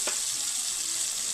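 Tomatoes frying in a pan for tomato rice, a soft continuous sizzle with one brief scrape near the start, heard close and steady without speech.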